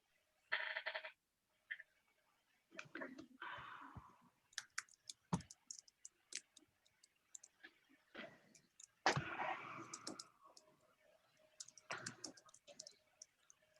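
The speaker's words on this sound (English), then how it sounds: "I hear somebody typing" Faint, irregular clicks and taps in bursts, like keys pressed on a keyboard, with quiet pauses between flurries.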